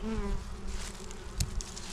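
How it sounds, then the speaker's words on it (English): Honeybees swarm around the entrance of a busy spring hive, coming and going fast, making a dense, steady buzz close by with individual bees zipping past the listener, and no voices. "This hive here, they are coming and going really, really fast."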